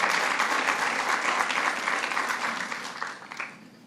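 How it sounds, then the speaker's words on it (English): An audience applauds Congressman Espaillat at a state child care funding announcement: a loud, dense burst of clapping that gradually fades over about four seconds. "let's give Congressman Espana a special round of applause for being the champion when we needed one."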